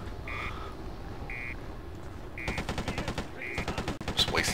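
Video game submachine gun bursts in Freedom Fighters, rapid rattling automatic fire in two long runs over a steady game background, with short repeated beeps between them.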